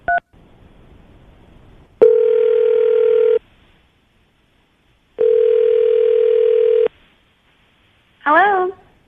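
A short beep, then two long steady telephone tones separated by silence, ending with a quick burst of warbling dial tones. Loud and clean.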